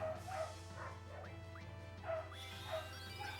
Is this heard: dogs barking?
yes